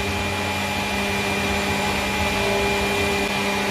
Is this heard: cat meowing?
no